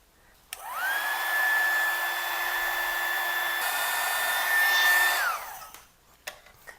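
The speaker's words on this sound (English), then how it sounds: "This little heat shrink gun works awesome." A small heat shrink gun blows hot air onto heat shrink tubing in a tube amp power supply build, a loud steady whine with a tonal hum lasting about five seconds, then switching off and spinning down.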